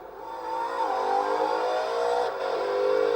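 A powerful car engine in a racing video game revs and whirs continuously, its pitch rising and falling in smooth sweeps as it accelerates, steady and clear with no voices.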